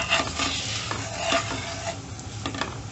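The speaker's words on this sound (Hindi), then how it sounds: "मिर्च, हल्दी, थोड़ा सा धनिया पाउडर और नमक। थोड़ा से भून लेंगे" Chili, turmeric, coriander powder and salt roast in a pan with sizzling oil as a utensil stirs them, giving repeated scraping strokes over a steady frying hiss, close and clear.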